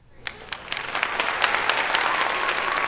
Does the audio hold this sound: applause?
yes